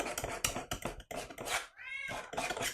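An elderly cat in an art studio gives a short meow amid clattering, scraping tabletop noise, the cry rising clearly in the middle of the busy handling sounds.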